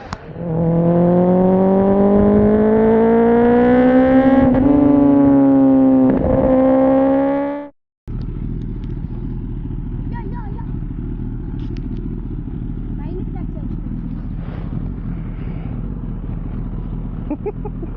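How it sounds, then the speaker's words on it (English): Sport motorcycles, among them Triumph Tiger 900s, a BMW S1000R, Kawasaki ZX10R, Z800 and Z900s, Triumph Street Triples and a Honda CBR 250R, rev loudly up close with rising engine pitch, then cut off and give way to a lower idling rumble. "Tiger 900, Tiger 900, S1000R, ZX10R, Z800, Street Triple R, Z900, Z900, Street Triple RS, and the infamous CBR 250R."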